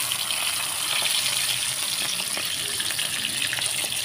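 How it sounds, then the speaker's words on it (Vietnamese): Battered cabbage frying in a pan gives a steady, close sizzle and crackle that runs continuously, with faint bubbling pops throughout and no talking. "Rồi mình sẽ bỏ vô trong một cái chảo để mình chiên nha các bạn."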